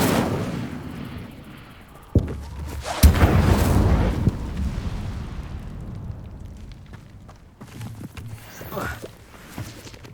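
A fire spell bursts out in the Hogwarts Legacy video game with a loud, sudden whoosh and boom. A sustained roaring crackle follows and slowly fades, and a second, quieter burst comes near the end.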